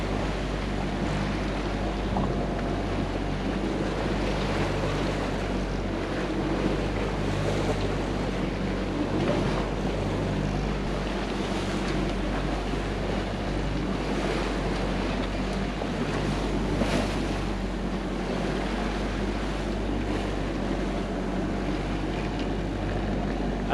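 A sailboat pounds through rough, turbulent water off Nova Scotia's Cape Breton, with a steady wash of waves and surf, strong wind noise across the microphone and low rumbling hull thumps, continuous and loud, with no talking.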